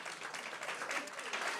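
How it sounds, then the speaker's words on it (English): An audience at a group session claps for Brian, a brief, fairly faint patter of scattered hands that holds steady for under two seconds. "Can we clap it up for Brian?"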